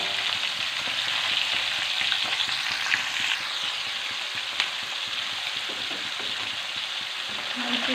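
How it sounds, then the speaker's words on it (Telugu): Fish pieces fry in hot oil with a continuous, fairly loud crackling sizzle, steady throughout with occasional small pops and a light clink near the middle. "మంచి ఫ్రై అవుతుంది చేప అనేది. ఆయిల్లో స్నానం చేస్తుంది"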